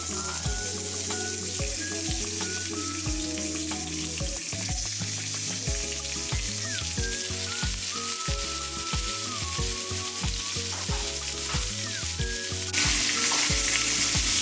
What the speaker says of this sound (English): now that the pan is hot, we are loading the steak